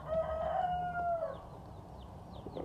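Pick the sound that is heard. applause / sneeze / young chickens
young chickens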